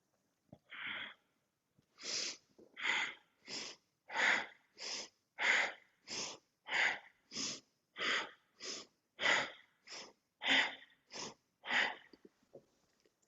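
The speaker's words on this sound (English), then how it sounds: "Lovely, strong breathing, lifting and lowering. Powerful breath." Strong, forceful breathing during yoga movement, a long series of sharp, rhythmic exhalations roughly every 0.7 seconds, close and quiet, with no talk.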